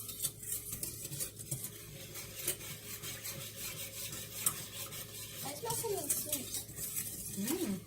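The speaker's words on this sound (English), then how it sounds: "I'm going to stir that together." A utensil stirs a blueberry cheesecake French toast casserole mixture in a container, producing soft, continuous scraping and rubbing at low volume with a few light clinks.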